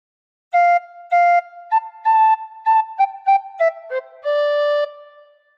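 A tin whistle plays a short, gentle melody from "Oh Susanna" alone: a few held notes, then quicker stepping notes, ending on a long sustained tone.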